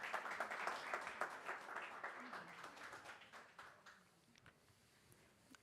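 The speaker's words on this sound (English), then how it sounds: "Let's give them, they are here, a big round of applause as they come up on a stage." Audience applause at a European public-sector quantum summit as panelists come up on stage, a dense clatter of many hands that is loud at first and thins and fades toward the end.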